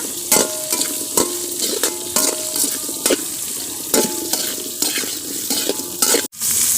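Green chillies sauté in a pan for wedding-style sambar, with a spatula rhythmically scraping and tapping the metal every second or so over a steady close sizzle.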